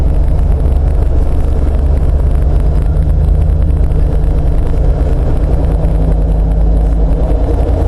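Inside a freeway-cruising Jeep JK with an LS engine swap, a loud, steady low rumble of tire and wind noise fills the cabin, with the engine itself barely audible and no talking.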